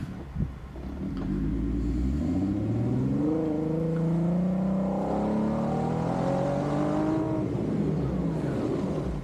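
A vehicle engine revs hard and steady in third gear on snow in Wyoming, a loud continuous drone with rising pitch sweeps as the tires spin, lasting throughout with no talk.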